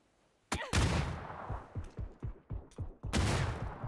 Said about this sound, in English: Grenades pumping in here.